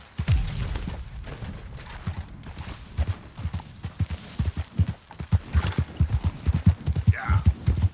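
Horse hooves clip-clop in the Red Dead Redemption 2 video game, a steady run of thudding hoofbeats that continues across the whole stretch, fairly close and prominent.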